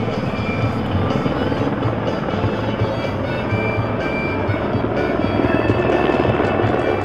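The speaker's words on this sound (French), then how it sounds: "L'hélicoptère, tu vas l'entendre dans quelques instants." Helicopter hovering over a ski race start on a mountain, its rotor thudding steadily and loudly throughout with a constant engine drone, no talk.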